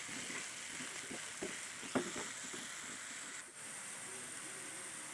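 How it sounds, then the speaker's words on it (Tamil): Onions and curry leaves sautéing in hot oil for a quail gravy, a steady broadband sizzle running throughout with a few small utensil clicks and stirring knocks near the pan. "இப்போ இது எல்லாத்தையும் நல்லா வதக்கிக்கலாங்க. வெங்காயம் வந்து நல்லா பொன்னிறமாக வர வரைக்கும் வதக்கிக்கலாம்."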